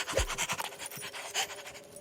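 A cartoon dog pants rapidly and rhythmically, close and fairly loud, a steady series of quick breathy huffs with no speech over it.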